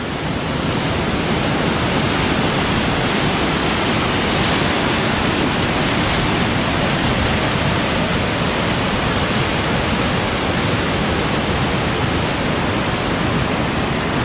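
Water rushes at the bottom of a natural water slide chute at Ohiopyle State Park, Pennsylvania, making a steady, loud, broadband roar that fills the whole stretch with no voices.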